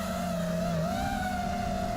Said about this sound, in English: See if I can get some D-term oscillation out of this copter.